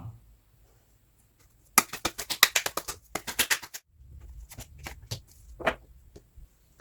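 Oracle cards are shuffled close up in a fast riffle of crisp flicks, followed by a quieter stretch of slower taps and card handling, with no voices.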